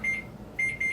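A kitchen oven timer beeps in short, bright repeated tones, one long beep followed by two more, clear and close in a quiet room.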